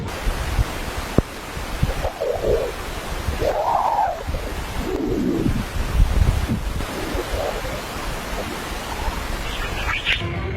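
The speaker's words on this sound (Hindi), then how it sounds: "चहचहाट की ऑडियो सुनी वो सोलर विंड से निकलने वाली एक खास डिस्पर्सिव वेव्स की निकलने वाली आवाज है" Eerie swooping chirps and whistling tones rise and fall over a constant rushing hiss, a recording of dispersive plasma waves from the solar wind.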